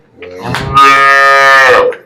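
A dairy cow at a farm sale gives one loud, close, drawn-out moo lasting about two seconds, alone without talk.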